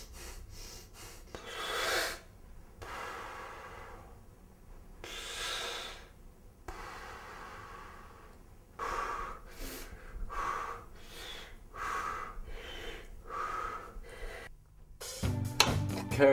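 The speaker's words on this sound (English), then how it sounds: "I usually do breathing exercises when I first wake up to get my blood flowing" Loud, heavy breathing exercises done right after waking, with repeated forceful snorting inhales and gasping exhales in uneven bursts, close to the listener, with a brief rustle near the end.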